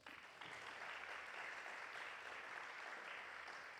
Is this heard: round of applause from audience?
yes